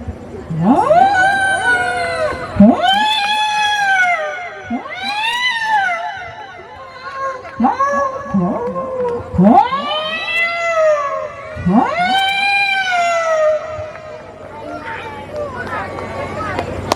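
A human voice imitates two cats fighting, with loud yowling, rising and falling caterwauls in quick succession, close and alone.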